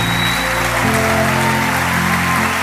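Congregational clapping in a church rises over held keyboard chords that change midway, a brief, steady burst of many hands together.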